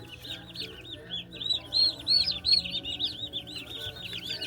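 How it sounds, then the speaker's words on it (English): Turkey chicks cheep in a dense, continuous chorus of high, rising peeps at a Tractor Supply farm store in Deming, New Mexico, close and fairly loud with overlapping calls throughout. "Look at all these little chicks. Apparently they're turkeys."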